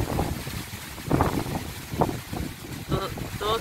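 Wind buffets a rural countryside kitchen area before rain, a rough, gusting rush over the microphone with a voice speaking briefly in between.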